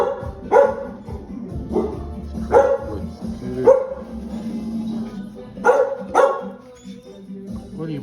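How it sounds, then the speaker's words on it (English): A dog barks about seven times in irregular bursts at moderate distance inside an engine teardown workspace, with a few closer double barks near the end and quiet background noise between. "what are you barking at?"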